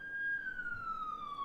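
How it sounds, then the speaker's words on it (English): An ambulance siren wails past on a street, a single clear tone sliding slowly downward as the vehicle moves away, loud over a low traffic rumble. "Hold on, I'm gonna let the ambulance go by."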